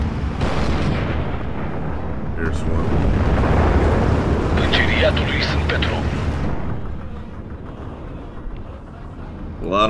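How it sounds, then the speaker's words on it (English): Mortar fire in the WWII strategy game Steel Division 2, a rumbling barrage of booms and blasts rolling continuously, loud and swelling midway before easing, with voices speaking over the battle. "Mortars."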